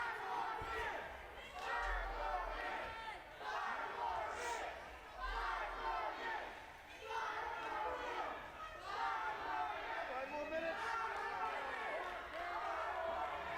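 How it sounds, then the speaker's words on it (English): A wrestling arena crowd chants rhythmically in repeated swells for five more minutes of a match, loud and continuous with the noise of a big audience. "The crowd wanting 5 more minutes."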